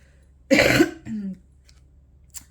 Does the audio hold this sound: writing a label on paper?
no